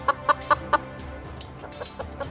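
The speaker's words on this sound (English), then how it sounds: "The one at the bottom here makes some clucking sounds." Chickens cluck in a quick burst of four loud, close clucks, followed by fainter, scattered clucks trailing off alone.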